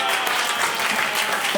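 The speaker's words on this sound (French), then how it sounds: "Allez, on applaudit ensemble, on donne beaucoup d'énergie aux artistes ce soir." An audience claps steadily through the whole stretch at a live comedy show, a dense, even wash of applause with no one speaking over it.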